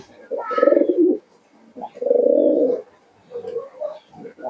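Pigeons, Andra breed, coo in low, rolling phrases, two long ones followed by shorter murmurs, close by and clear.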